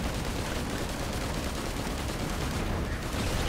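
Dense enemy gunfire in Risk of Rain 2, a continuous noisy barrage of rapid shots and impacts filling the whole stretch, loud and unbroken with no clear pauses or voices.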